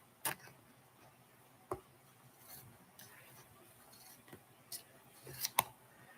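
Sharp scissors snip an embossed craft card in a few quick, close cuts, with short pauses and light handling clicks between them in a quiet room.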